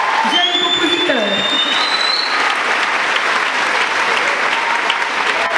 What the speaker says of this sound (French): On applaudit très fort et on chante.